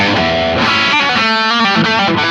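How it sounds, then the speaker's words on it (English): An electric guitar runs through a two-stage drive pedal, soft clipping into hard clipping, playing loud, thick, saturated chords and notes that sustain continuously with a dense, gritty overdriven tone. "it's the 2-stage is basically a soft clipping drive followed by a hard clipping drive"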